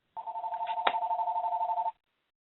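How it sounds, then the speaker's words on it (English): A telephone rings in the background of an online meeting call with a rapid trilling electronic warble, one continuous burst of nearly two seconds, fairly faint, then stops. "I'm hearing a phone in the background."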